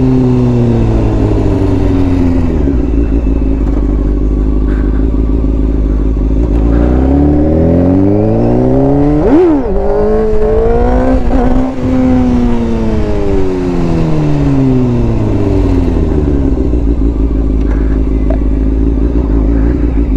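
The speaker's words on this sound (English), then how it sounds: "Go try and wheelie my buddy's F4I." A Honda F4i sport bike's engine revs hard during a wheelie attempt, pitch climbing and falling in loud, close sweeps over a steady idle, with a sharp throttle blip near the middle.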